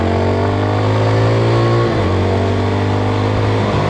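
Yezdi Scrambler motorcycle engine revving hard, a loud steady harmonic drone that dips briefly near the middle and again at the end, with no talk over it.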